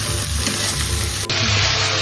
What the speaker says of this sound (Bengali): এখন তো এটা ভাজা কষা হয়ে গেল